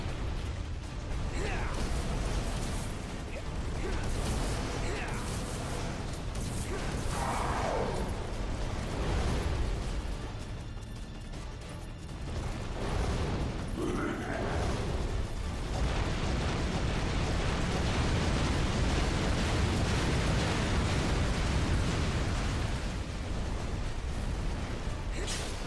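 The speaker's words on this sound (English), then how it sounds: "I really hate his fire jutsus." Enemy fire jutsu explosions in the video game Ninja Blade, rumbling bursts and blasts over a churning roar with mechanical clanks, dense and loud throughout, with some speech mixed in.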